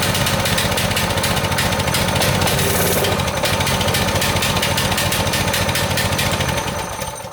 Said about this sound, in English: still just idling really high